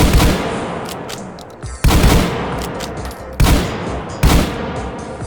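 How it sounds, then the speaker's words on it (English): A pump-action shotgun in the VR shooter H3VR fires two shells in close succession, then twice more, each blast loud and sharp with a short ringing tail. "Okay, so each pull the lever. Fire 2 shells."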